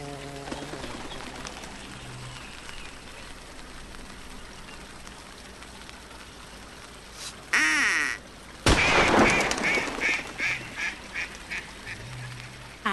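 A duck quacks late in the clip, a few loud nasal calls close by, following a long stretch of quiet background hiss.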